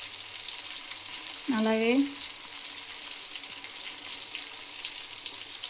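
Garlic sizzles in hot oil for a Telugu coriander chutney, a steady close hiss of frying that runs throughout, with a short spoken word partway through.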